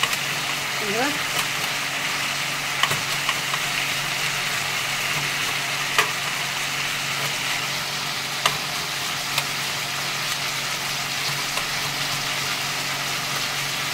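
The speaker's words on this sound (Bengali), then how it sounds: "পেঁয়াজটাকেও আমি রেড করে নেবো।" Onions frying in a pan for fish biryani give a steady, close sizzle throughout, with occasional stirring clicks and taps.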